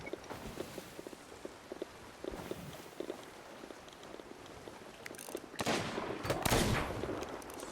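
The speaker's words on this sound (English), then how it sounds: "Now he's starting to shoot." Sniper rifle fire in Sea of Thieves: scattered distant cracks through a steady ambient wash, then a louder, closer cluster of sharp shots near the end.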